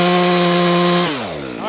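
A chainsaw cuts through pin oak firewood, its engine holding a steady high whine before the pitch drops and bogs briefly as the bar works in the cut, close and loud.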